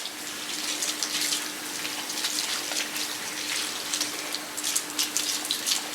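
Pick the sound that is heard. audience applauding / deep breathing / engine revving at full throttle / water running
water running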